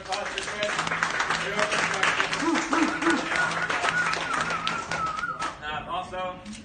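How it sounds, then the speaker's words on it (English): A round of applause and cheering breaks out at a live event, with claps and voices mixed together and a loud sustained tone ringing over the crowd before it fades. "I want to give a round of applause for Chris"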